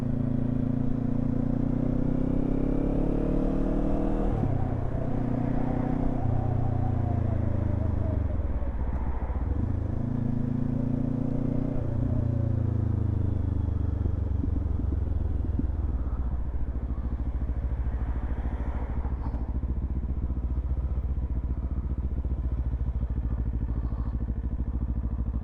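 A 2024 Kawasaki Z500 motorcycle ridden slowly through narrow city streets, its mid-pitched engine drone rising and falling as it gently revs and eases off, steady and close throughout.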